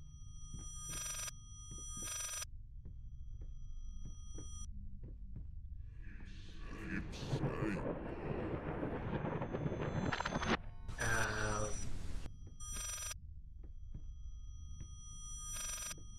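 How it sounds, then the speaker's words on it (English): Telephone ringing in the video game Layers of Fear: repeated bursts of an old-style bell ring, spaced evenly over a dim low hum, with a stretch of louder rustling and a tonal warble in the middle. "Is that a phone?"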